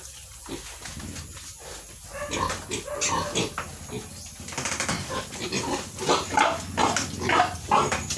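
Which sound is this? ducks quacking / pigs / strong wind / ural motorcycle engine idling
pigs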